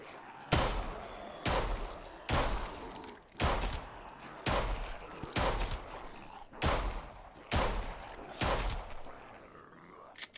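Gunshots in the zombie survival video game Humanitz, roughly nine loud, evenly spaced blasts about a second apart, each with a short booming decay, with no talk over them.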